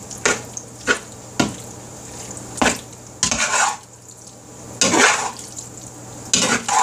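Chicken pot pie filling being stirred in a pot: a spoon clanks sharply against the metal sides in irregular knocks, broken by longer wet scraping sweeps through the thick mixture, close and loud with no talking.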